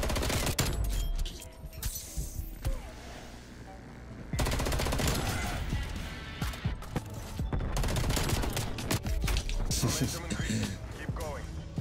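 Rapid gunfire in Call of Duty: Black Ops Cold War, an FFAR rifle in a free-for-all match, with loud repeated bursts, brief pauses, then sustained firing, and a voice talking over the shooting.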